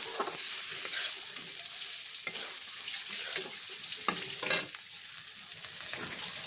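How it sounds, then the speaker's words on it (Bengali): Cumin seeds fry in hot oil with a steady, close sizzle, punctuated by spatters and scraping stirs of a utensil in the pan. "জিরে দেওয়া হলো।"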